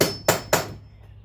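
A Phillips head drill bit is tapped into a door with a hammer, three sharp close knocks in quick even succession before falling quiet.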